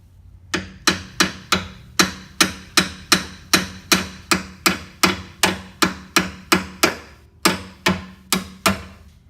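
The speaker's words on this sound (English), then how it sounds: "A little hammer." Small hammer striking metal while removing a suspension link and bushing, about twenty sharp, evenly spaced taps ringing out one after another, close and loud with no talking.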